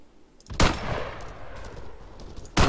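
Two loud, sharp rifle shots from a 6.5 mm rifle with heavy recoil in the military shooter Arma 3, about two seconds apart, each with a short echoing tail and a low rumble between.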